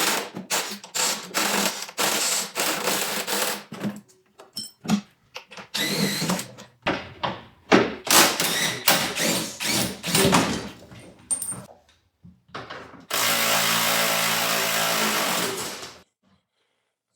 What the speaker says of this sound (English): I got to remove the 2 bolts that are 2 bolts from each side that are holding up the